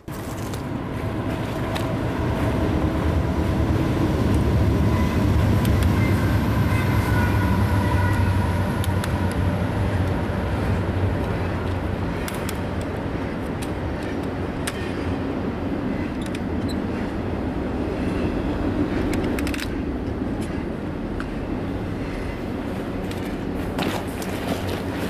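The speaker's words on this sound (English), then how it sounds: "There's another train or something coming." A train approaches and passes at a distance near railway tracks during a graffiti session, a steady loud rumble and rolling rail noise filling the whole stretch without talk.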